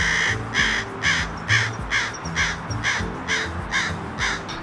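Loud, harsh caws from a nearby crow repeat in a steady rhythm, roughly two per second, with no talking.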